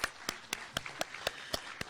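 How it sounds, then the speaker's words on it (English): A round of applause for adult-education instructors and tutors at a community college awards ceremony, heard as a sparse run of about eight sharp, evenly spaced claps, thin and somewhat distant, as if from only a few people. "That, I think, deserves a round of applause."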